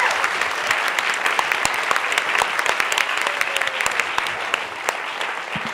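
Audience applause filling a hall at the close of an onstage conversation between two authors, steady dense clapping with scattered sharp claps throughout, sustained and loud without a break.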